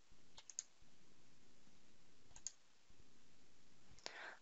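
A few quiet computer mouse clicks on the Assign button in STAAD.Pro structural modeling software, sparse and isolated, with a brighter click near the end over faint background hiss.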